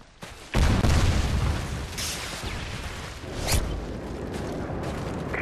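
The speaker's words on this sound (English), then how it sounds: "Predator missile inbound." A Predator missile strike in Call of Duty: Modern Warfare 3 lands as a loud, booming explosion with a heavy low rumble, followed by sustained battlefield noise and a second, smaller blast a few seconds later.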